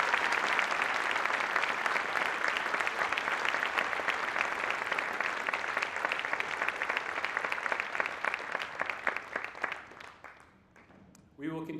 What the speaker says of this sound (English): Please give one more round of applause to Mr.